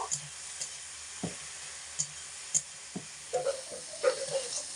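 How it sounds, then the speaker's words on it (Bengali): Pieces of elephant apple (chalta) frying in oil with salt and turmeric, a quiet, steady sizzle broken by clinks and scrapes of stirring that grow busier toward the end. "তেলের মধ্যে ফেলে চার থেকে পাঁচ মিনিট সময় ধরে চালতে খুব ভালো করে লাল লাল করে ভেজে নিয়েছি"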